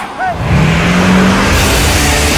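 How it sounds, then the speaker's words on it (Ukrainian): A diesel engine running on arctic diesel fuel in frost gives a steady, continuous drone with a low rumble and broad noise, loud and close throughout without pause. "Так працює дизельний двигун на арктичному дизельному пальному"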